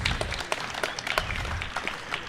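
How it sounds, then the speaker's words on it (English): A live audience at a business chamber event gives a round of applause for a guest's father, a brief spell of steady, fairly close clapping with a few sharp individual claps standing out. "Round of applause for Dad."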